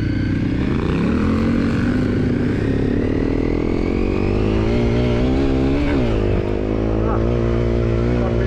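A Honda CRF250L motorcycle accelerates hard, its engine note climbing steadily in pitch over several seconds, loud and close, with a brief dip and recovery near the end.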